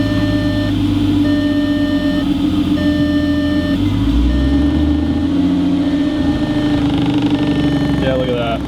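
A Volkswagen GTI with a VR6 engine and deleted muffler runs in first gear with the wheels turning, a steady close rumble throughout, while a repeating electronic beep sounds every second or so above it.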